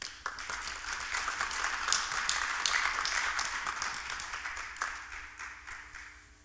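An audience at a Korean Christian New Year prayer breakfast applauds to welcome a city mayor to the podium, dense clapping that swells then gradually fades over about six seconds, no talking.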